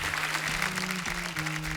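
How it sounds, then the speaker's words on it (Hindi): A studio audience on a Hindi comedy talk show applauds the arriving guests, a dense, steady wash of clapping that continues throughout, with a sustained tonal hum running beneath it. "आज हमारे मेहमानों के नाम एक बार जोरदार तालियां हो जाएं."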